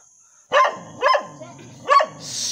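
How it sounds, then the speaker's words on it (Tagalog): Dog barking three times at close range, sharp separate barks spaced about half a second apart, over a faint steady background tone. "hindi ba ito nangangagat yung aso nyo na"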